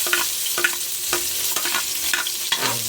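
Garlic and onion fry in a hot pan with a steady loud sizzle, punctuated by several sharp scrapes of a spoon or spatula stirring close by, with no voices.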